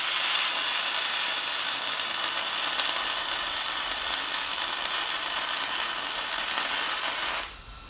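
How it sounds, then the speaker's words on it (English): A welder lays a continuous bead along the bottom of a scrap metal bench, giving a steady, close crackling hiss for about seven seconds. The sound stops abruptly at the end, and no one speaks. "I'm going to tack the bottom and weld it up"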